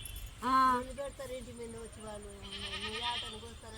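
A goat bleats several times in wavering cries, fairly close, while people talk nearby in a village setting.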